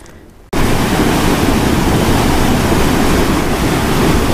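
Water roars steadily over the spillway at Dam Site 3 on an Arkansas trout stream. The loud, broadband rush starts abruptly and then continues unbroken, with no talk over it.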